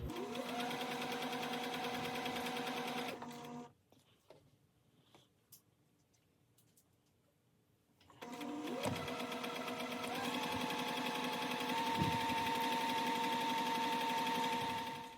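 A sewing machine stitches a seam on a dress, running in a steady close hum that stops for a few seconds, then starts again and speeds up to a higher, even whir.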